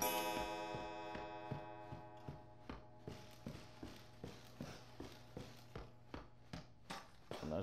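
A clock in the horror game Resident Evil 7 ticks with a steady, even beat, each tick crisp and close, heard over a low sustained chord that fades through the opening seconds.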